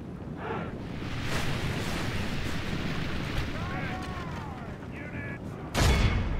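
Troops open fire during a Lord of the Rings battle video game pitting Gondor against Isengard, with a steady wash of battle noise, scattered bursts and shouting-like tones, ending in a loud, close blast.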